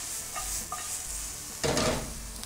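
Onion sautéing in a pan with sprigs of thyme, a steady sizzle with a short burst of louder frying and stirring near the end, close and without speech.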